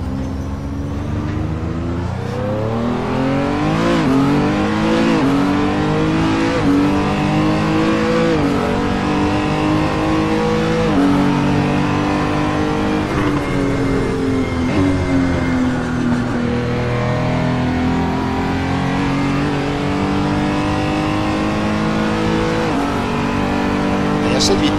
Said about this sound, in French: Entend bien le bruit du V6 là.